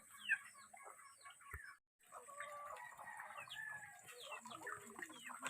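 Several chickens cluck and chatter at once, fairly faint, with busy overlapping calls and a brief gap of silence partway through.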